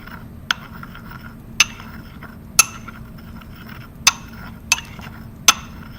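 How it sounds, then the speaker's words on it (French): A pestle grinding potassium bromide (KBr) crystal into fine powder in a mortar with a circular motion: six sharp, bright clinks spaced about a second apart, alone over a faint low hum. "je vais homogénéiser le tout en faisant un mouvement circulaire pour bien réduire en fine poudre le cristal"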